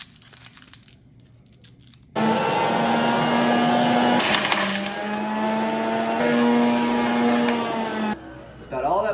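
A juicer motor whines loudly and steadily as garlic is pushed through it, a sustained mechanical drone with shifting pitch and grinding, crackling texture running for several seconds before cutting off.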